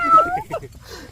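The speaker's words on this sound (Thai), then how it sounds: "แมวจะมากินปลา แมวตกใจปลาเลยครับ" A cat meows once near a nighttime fishing spot on a reservoir bank in Rayong, Thailand: a short, close, rising-then-falling call, followed by faint rustling and low background noise.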